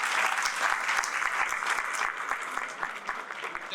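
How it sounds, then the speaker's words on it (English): Audience at a Karachi alumni reunion event clapping together in a steady, dense burst of applause with distinct claps standing out, sustained throughout without talk. "So can you please clap?"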